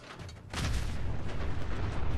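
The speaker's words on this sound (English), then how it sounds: "That's a legendary robot explosion" Robot exploding in the video game Fallout 4, a sudden deep boom that bursts in partway through and rumbles on loudly to the end.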